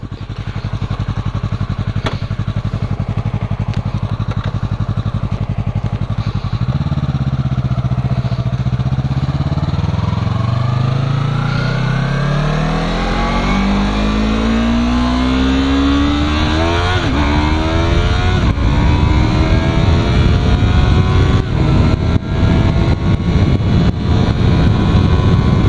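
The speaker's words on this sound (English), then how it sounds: "That's the Tiger exhaust, excuse me, in case you guys are interested." A Yamaha R3 sport motorcycle fitted with a Tiger aftermarket exhaust revs steadily and loudly up close, its engine note climbing through a long sustained rise and then holding a harsh, high drone.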